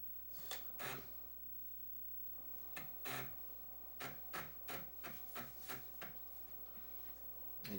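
An Amiga's internal floppy disk drive booting a Workbench disk, giving a quiet run of irregular clicks and rubbing seeks, some clustered in quick rhythmic bursts, with no voice.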